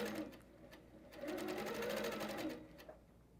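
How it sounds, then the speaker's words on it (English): Sewing machine quilting with a TruStitch stitch regulator, a steady close whirr of rapid stitching that swells louder in the middle and eases off, briefly pausing at a corner. "and I can continue stitching again."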